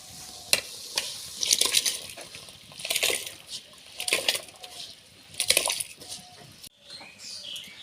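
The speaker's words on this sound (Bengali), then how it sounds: "চাল ফুটে গেছে, আমি এবার দিয়ে দেব চাল" Rice poured into a pot of boiling water for khichuri, heard close up as a few bursts of rattling, splashing pours and stirring over a low bubbling background, with no voices.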